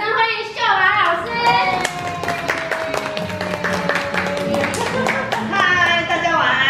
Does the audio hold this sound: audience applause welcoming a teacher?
yes